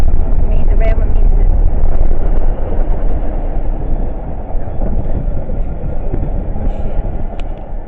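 Deep, continuous rumble of a freight train rolling past near the Alapaha River in a swamp, loud at first and easing slightly as it continues, with low rail and wheel noise throughout.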